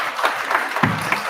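A brief burst of audience applause at a caucus forum in Boulder, Colorado, dense and steady claps lasting barely over a second.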